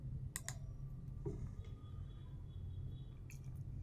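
A computer mouse gives a few faint, sharp clicks, spaced irregularly over a low background hum.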